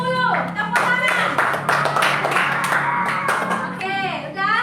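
A classroom of fifth-grade pupils claps together in a dense burst of sharp, rapid hand claps that runs nearly five seconds. Children's voices call out over and between the claps.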